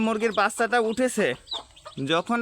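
A desi hen with her chicks clucks in close, loud, rapid bursts, a series of short squawking calls with a brief pause partway through.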